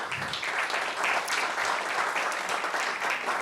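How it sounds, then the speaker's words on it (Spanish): A forum audience applauds steadily in a room, dense even clapping held at a moderate level, with a faint voice murmuring near the start. "Por favor, un aplauso para ustedes."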